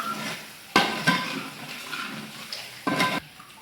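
Water is poured into chicken gravy masala in a pan in a couple of short splashy bursts, with light clinks of a utensil against metal between them.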